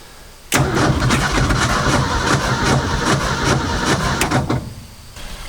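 A Ford F250 left abandoned for 26 years cranks and fires, its engine catching abruptly into a loud, rough, steady run close by before cutting off near the end.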